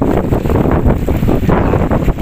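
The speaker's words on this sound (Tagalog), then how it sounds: "tingnan nyo parang ang lakas ng hangin pero wala pa namang ulan" Strong wind buffets the microphone in rough gusts by the sea, with waves crashing in the roar underneath and no rain or voices.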